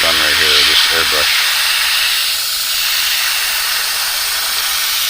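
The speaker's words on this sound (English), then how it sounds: "I realize it's hard to hear me once the compressor kicks on. That's the new compressor." A new, fairly quiet air compressor for an inexpensive airbrush runs as a steady loud hiss throughout, with a person speaking briefly at the start.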